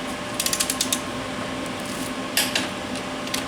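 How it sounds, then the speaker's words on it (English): Torque wrench tightening the thrust cap bolts on an MGB crankshaft in a workshop: a few quick clicking bursts early on, then two more short clicks later, near and fairly soft over a steady background hum. "So I'm going to torque this cap"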